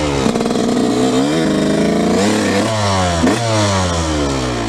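A dirt bike in first gear revs up loudly and close, its engine pitch climbing, dipping briefly, then climbing again in a steady throttle-on drone.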